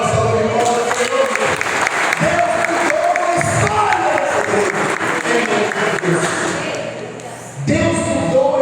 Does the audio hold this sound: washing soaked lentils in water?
no